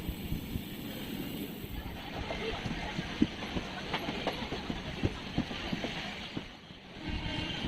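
A new Kolkata to Digha passenger train runs on the Howrah main line near Andul, giving a steady rumbling ride with scattered wheel clicks and clatter, faint wind noise and occasional voices in the carriage.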